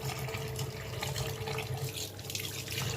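Fish being rinsed under a running kitchen tap, with a steady, continuous splash of water into a sink close by for the whole stretch.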